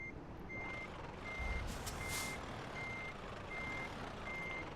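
A truck in Euro Truck Simulator 2 backs up with a steady run of evenly spaced reversing beeps over a low engine rumble, and no one speaks.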